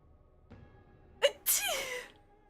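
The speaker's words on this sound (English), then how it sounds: "Oh god, I gotta sneeze." A single person sneezes, a sharp intake breath followed moments later by a loud, explosive sneeze that trails off over about half a second, heard close and alone with no talk.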